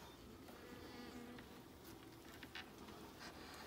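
Honeybees buzzing in an opened beehive as a comb frame is lifted out, a steady close drone of many bees with a few louder passes, and no voices.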